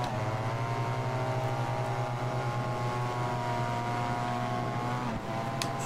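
Steady, loud engine drone from a BMW HP2 Sport motorcycle in the racing game Ride 4, held at a constant pitch throughout with a brief dip near the end and no talking.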